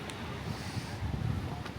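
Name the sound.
cold wind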